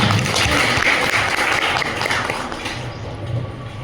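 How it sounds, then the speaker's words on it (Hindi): A seminar audience at a teacher-education event applauds loudly, a dense, steady wash of many hands clapping together for several seconds before it begins to thin out. "एक बार उनके लिए जोरदार तालियां।"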